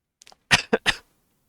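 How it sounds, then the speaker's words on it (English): A person coughs three times in quick succession, close and loud, after a faint short throat sound, then falls silent. "I'm coughing so much."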